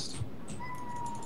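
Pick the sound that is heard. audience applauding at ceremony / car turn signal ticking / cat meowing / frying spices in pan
cat meowing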